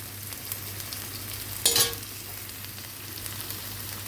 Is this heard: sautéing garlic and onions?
yes